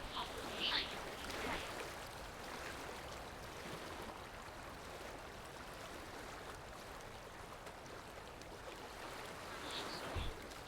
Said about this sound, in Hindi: बहुत सुंदर झरना है,